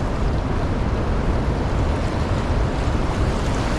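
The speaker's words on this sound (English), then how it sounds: "Look at this wave coming in." Large waves churned up by an open floodgate release at Center Hill Dam, a loud, continuous roaring wash of water mixed with wind buffeting the microphone, with no voices.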